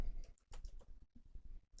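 Quick bursts of clicky keystrokes on a computer keyboard, close and fairly quiet, in short irregular runs with brief pauses between them.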